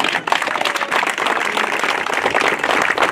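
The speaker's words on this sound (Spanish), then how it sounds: "Yo quiero que le brinden un fuerte aplauso al señor Alejandro" An audience applauds a band supporter at a chinelo brinco event, with thick, continuous clapping that stays loud and even from start to finish.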